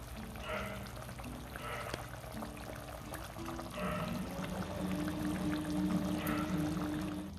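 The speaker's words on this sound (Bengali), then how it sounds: "দেখুন ঝোলটা ফুটে উঠেছে, এবার আমরা ভেজে রাখা মাছগুলোকে দিয়ে দিচ্ছি।" Fried fish slid into boiling curry gravy for a Bengali macher kalia, a bubbling, crackling simmer that swells louder toward the end, with a low hum underneath.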